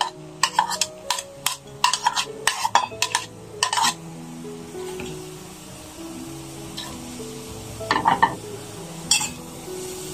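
Grated carrot and zucchini with finely chopped pepper being sautéed in ghee in a pan, with a spoon stirring and clinking against the pot in a quick burst, then a quieter stretch and a few more scrapes and clinks.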